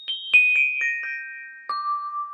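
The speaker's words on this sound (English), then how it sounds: "It's actually some vibes" Vibraphone sample in a hip-hop beat: bright mallet notes struck one after another in a quick descending run, each ringing on, then a final lower note sustaining clearly on its own.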